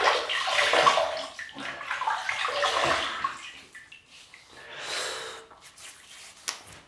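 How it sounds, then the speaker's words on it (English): Water splashed onto the face while rinsing before a shave with a Merkur Progress adjustable razor, close splashing and dripping mixed with snorting breaths, gradually easing off into quieter trickles. "we're going to rinse the face."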